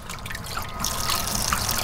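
Water trickling from a small gravity-fed tap on a greenhouse rain tank, a steady close splashing flow that grows a little louder partway through.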